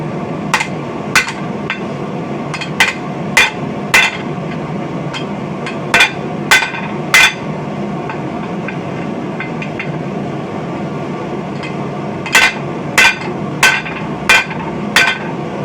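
Hand hammer with a deep peen dishing hot steel stock on an anvil, beginner blacksmithing without a swage block: bursts of sharp, ringing metallic blows in quick runs, loud and close, with pauses between groups.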